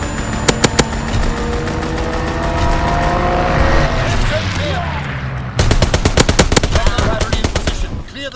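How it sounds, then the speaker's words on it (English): Rapid machine-gun bursts of a fighter plane's strafing run in Call of Duty: WWII, loud sharp volleys at the start, a rumbling engine swell in the middle, then a dense fusillade of close gunfire near the end. "Fighter pilot ready for strafing run."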